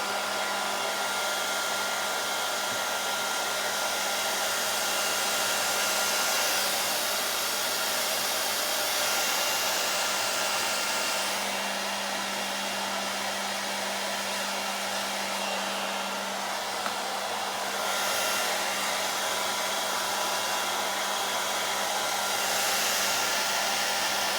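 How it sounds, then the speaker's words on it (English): A hair dryer on medium-high heat blows steadily while a brush works through a beard, a close, constant whoosh with slight shifts in tone as the airflow moves. "let's get out that brush and maybe add just a little bit of heat. So once again, we're gonna go to medium-high heat"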